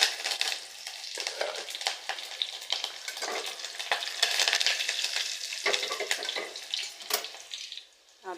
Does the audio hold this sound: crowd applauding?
no